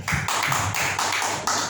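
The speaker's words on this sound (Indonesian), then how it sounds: "Tepuk tangan buat Tuhan kita." Church congregation clapping for the Lord, a steady stream of close, bright hand claps running continuously through the short stretch with no speech.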